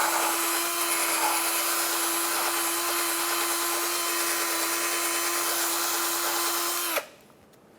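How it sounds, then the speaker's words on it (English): A wire brush spun by a power drill scours out a bolt hole on a 2013-2022 Buick Encore during ball joint replacement, a loud continuous whirring grind holding steady for about seven seconds before stopping abruptly. "I used a wire brush on a drill."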